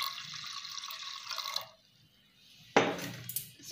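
Water poured into a pressure cooker while chana dal and parwal curry are being cooked, a splashing stream that stops, followed by a sharp clink and a short second splash, close and fairly quiet.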